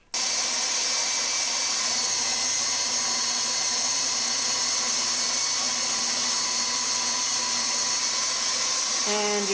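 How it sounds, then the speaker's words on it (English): KitchenAid spaghetti cutter attachment running on a stand mixer, a loud steady motor whine with a high mechanical hum that starts abruptly and runs evenly for about nine seconds before a slight shift at the end. "Now I'll use the spaghetti attachment"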